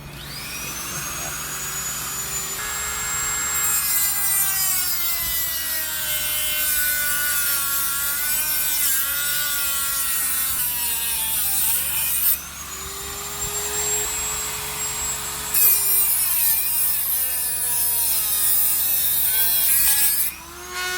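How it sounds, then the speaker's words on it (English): Dremel rotary tool cutting off a Honda CBR1000RR motorcycle chain: a steady high-pitched grinding whine with pitch wavering under load, continuous for about twenty seconds, with brief dips and restarts near the middle and end. "I'm gonna get ready to Dremel this off."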